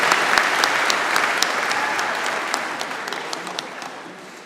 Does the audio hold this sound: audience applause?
yes